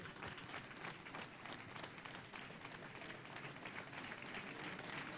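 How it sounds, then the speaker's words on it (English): Schoolboys at a high school dormitory handover ceremony clap and applaud together, a dense, steady crowd applause that stays loud and sustained throughout with no speech. "The boys can clap forever."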